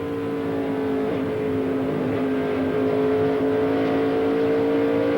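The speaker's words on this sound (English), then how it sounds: "You can hear him driving that car" A NASCAR Busch Series race car at Rockingham drives laps with a steady, sustained engine drone and whine, loud and close as if from an onboard view, with no talk.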